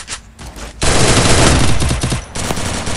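Loud, close automatic gunfire from a shooter video game, rapid bursts that run almost continuously, briefly broken up and then resuming.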